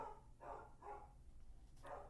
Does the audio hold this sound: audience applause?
no